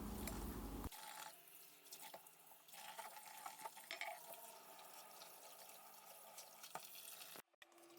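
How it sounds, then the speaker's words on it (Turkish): Liver is washed under plenty of running water from a kitchen tap, a steady faint splashing and trickling that goes on for several seconds, close to the sink, with a brief gap near the end. "Bol su yardımıyla yıkıyorum ve süzüyorum."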